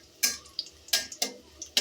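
Dried red chilies torn into pieces and frying in a hot pan for a village-style ash gourd dish, giving sharp crackling pops in irregular bursts, close and fairly quiet.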